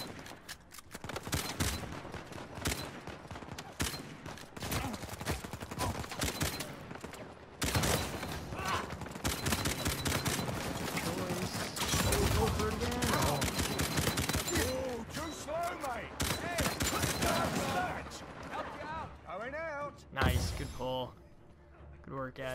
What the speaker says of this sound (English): It's a really fast shooting pistol.